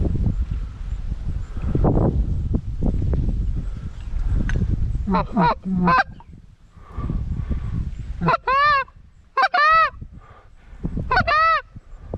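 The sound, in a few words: geese honking during goose hunt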